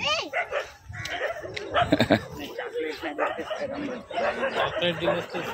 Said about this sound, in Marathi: अरे बुंगतायत. अरे कुत्र्याच्या मागे लागले.